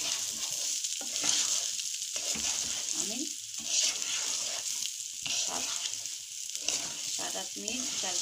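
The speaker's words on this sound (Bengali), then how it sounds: "দেখো আমি 8 মিনিট ধরে চালটা ভালো করে ভেজে নিয়েছি।" A kilo of rice is fried in a pan for a prawn and egg pulao, a soft steady sizzle with rhythmic scraping strokes of the stirring spoon repeating roughly every second.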